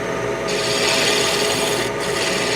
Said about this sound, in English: Let's sand this, dude, and we're gonna part it off.